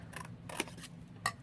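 Scissors snip through paper between printed dots for a garden journal, three short quiet cuts spaced apart over a low room hum, with no one talking.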